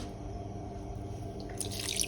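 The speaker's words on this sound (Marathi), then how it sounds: "असं एका चाळणीवरती सगळं पाणी निथळून घ्यायचं" Steady trickle and drip of water draining from soaked horse gram through a strainer, close by and continuous, with a brief brighter splash near the end.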